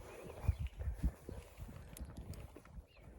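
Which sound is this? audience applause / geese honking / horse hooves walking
horse hooves walking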